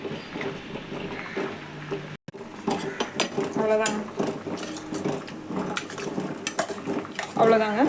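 A spoon stirs mushroom biryani in a metal pot, giving repeated scraping and clanking strokes of metal on metal, close and irregular, with a voice speaking over part of it.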